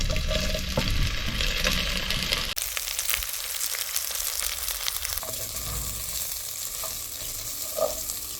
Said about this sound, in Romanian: Și prăjim cărnații, v-am spus, 3 minute, cred că 3-4 minute maxim